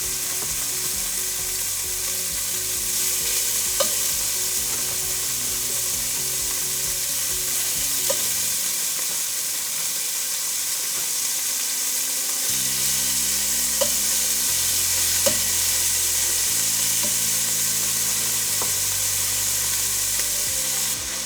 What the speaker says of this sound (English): let this pork rest on one side for just a minute so it gets that nice brown sear on it